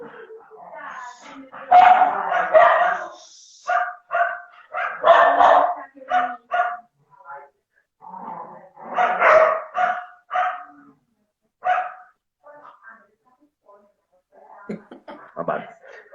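Several dogs bark, yip and whimper in loud, irregular bursts close by, with short quiet gaps between volleys.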